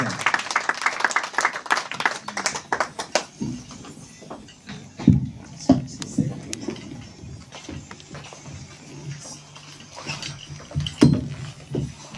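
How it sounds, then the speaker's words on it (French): Applause and scattered clapping break out at a birthday celebration for a prophetess, strong at first and then thinning to sporadic claps and a murmuring room, with a few later bursts. "sur vos tonnerres d'applaudissements, s'il vous plaît"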